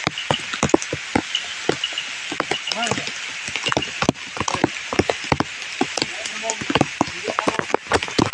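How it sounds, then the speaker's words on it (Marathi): Monsoon rain falls outdoors in a village woodland, its drops tapping sharply and irregularly on an umbrella and leaves close by, with voices faintly in the background. "पाऊस तर पडतोच आहे"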